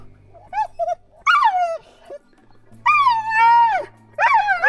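A hunting dog on a pigeon hunt whimpers and yips in drawn-out, rising-and-falling cries, three or four bursts at close range, loud and alone with brief quiet gaps between them.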